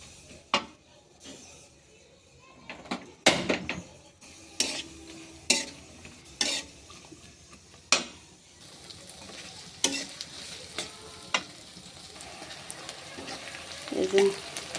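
Chillies and onions fry in a pan with a light background sizzle, broken by repeated sharp metallic knocks and scrapes from stirring, spaced irregularly across the clip.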